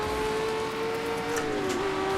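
A race car in a VR sim racing game accelerates onto a straight, its engine note holding a steady high whine that dips briefly as if shifting, loud and continuous with no speech.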